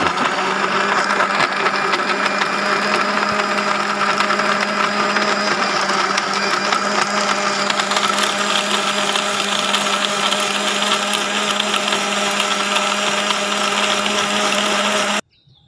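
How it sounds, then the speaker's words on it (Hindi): A blender grinds jaggery milkshake with ice cubes, a loud, continuous motor whine with rattling churn that runs steadily for about fifteen seconds before cutting off abruptly. "और इसके साथ बर्फ़ के क्यूब डालेंगे और इसको ग्राइंड कर लेंगे।"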